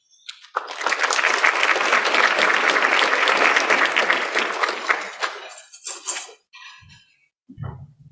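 Audience applause in a conference or luncheon hall, a dense, steady wash of clapping that builds quickly, holds for about five seconds, then thins to scattered claps and a few light clinks before fading.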